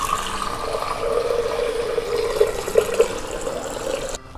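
Water pours into a glass or jug in a kitchen to go with orange juice, a steady close splashing stream with a few brighter gurgles near the end before it stops suddenly.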